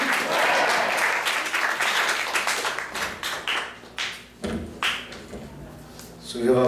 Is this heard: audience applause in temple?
yes